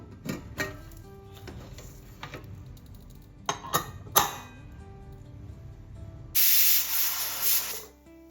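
A pressure cooker whistle: a loud, steady hiss of steam bursts out after a few sharp clicks and clatters, holding for about two seconds before fading away.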